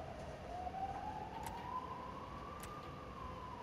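A distant emergency siren, likely an ambulance, wails with a slowly rising tone that runs steadily through the short stretch, faint under a constant wash of background noise.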